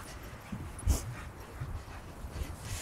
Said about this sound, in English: Rita's not a soft-looking dog